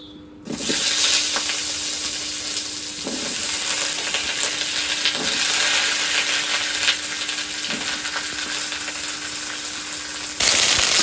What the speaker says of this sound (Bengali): পটল ভেজে দিই